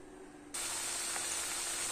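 Meatballs drop into hot oil and an abrupt loud sizzle starts, then keeps crackling and hissing steadily up close.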